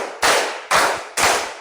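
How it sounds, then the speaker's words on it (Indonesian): Three sharp bursts of group clapping in steady rhythm, each a loud crackling wash that tails off before the next, no voices. "Oke, tepuk tangan."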